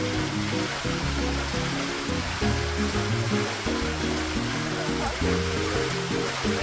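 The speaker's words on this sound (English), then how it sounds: "Zain discovered water falling off the infinity pool" Water spills steadily over the edge of an infinity pool at a Melbourne hotel, a constant, full rushing wash like a small waterfall, with music running underneath throughout.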